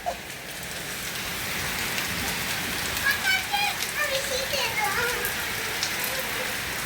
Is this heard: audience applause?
no